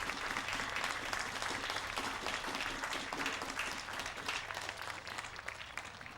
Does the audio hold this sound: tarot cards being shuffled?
no